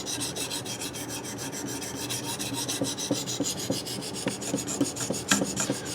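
A ViperSharp diamond knife sharpener rasps against a blade in quick, repeated strokes, close and scratchy, with small sharp ticks near the end.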